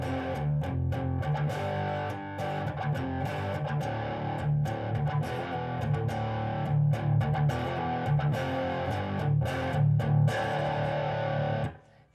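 A heavily distorted electric guitar riff chugs on the bottom three strings with barred power chords moving around the neck, loud and continuous for about twelve seconds before cutting off at the end, with no voices.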